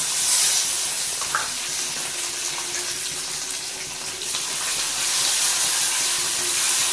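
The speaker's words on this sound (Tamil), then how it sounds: "இந்த ஸ்டேஜில் நறுக்கி வச்சுருக்கிற வெங்காயம் தக்காளியை ஆட் பண்ணிக்கலாம்." Chopped onions and tomatoes fry in hot oil as tempering for mango sambar, giving a steady soft sizzle and hiss that swells and fades slightly.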